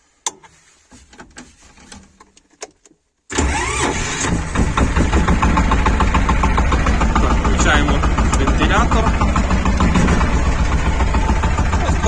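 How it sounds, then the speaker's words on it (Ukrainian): A mini tractor engine cranks and catches after a few quiet seconds, then settles into a loud, steady, chugging idle close by. "Заводимо трактор."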